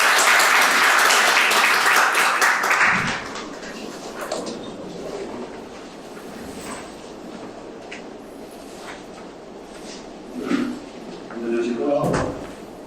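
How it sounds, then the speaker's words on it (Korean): Applause from an audience at a criminal justice reform forum welcomes a speaker, a brief burst of clapping at the start that fades within about three seconds, followed by quiet room noise and scattered thumps and shuffling. "큰 박수 환영해 주십시오."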